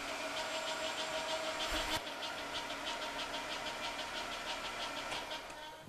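A car idles just after an oil change, its engine holding a steady, even rhythmic hum nearby for several seconds, with a brief bump partway through and a slight fade at the end, no voices.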